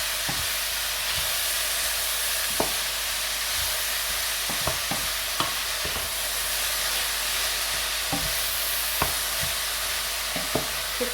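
Vegetables fry in hot olive oil in a pan, giving a steady, fairly quiet sizzle and hiss with occasional small pops and stirring clicks.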